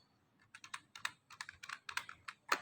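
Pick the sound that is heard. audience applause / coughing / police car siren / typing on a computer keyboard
typing on a computer keyboard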